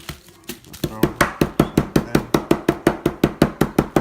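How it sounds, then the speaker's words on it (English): A heavy kitchen knife held flat on its side crushing Ritz crackers on a board: a fast, even run of loud, close thumping crunches, about four per second, with no talk. "I'm gonna hold it sideways like this and just crush my crackers up."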